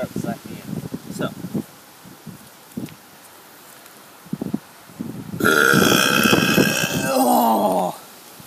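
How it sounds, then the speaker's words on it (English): A child's loud, long burp rumbles out near the end, following scattered talk and rustling, and ends in a drawn-out, groaning tail. "I'm gonna do a big burp at the end."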